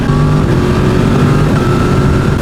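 Yamaha MT-10 SP motorcycle engine droning steadily and loud throughout while riding, clicking up through the gears with a quick shifter, with shifting tones stepping across the run.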